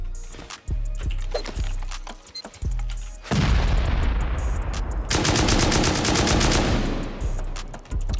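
In the game Rust, an automated turret fires a loud sustained burst, rapid shots running together into a roaring stream after a few lighter thumps, heard up close.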